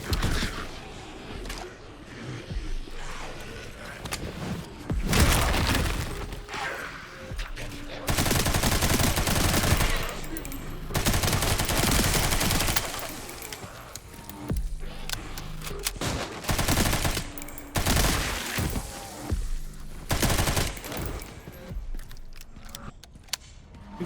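Gunfire in a Resident Evil game as zombies are shot, bursts of rapid shots alternating with quieter pauses, fairly loud and close, with little or no talk.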